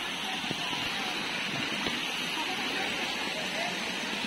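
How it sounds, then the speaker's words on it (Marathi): A waterfall near caves in monsoon rain in Sambhajinagar gives a continuous broadband rush of falling water, with a faint voice now and then over it. "हा आहे तो फायनल वॉटरफॉल"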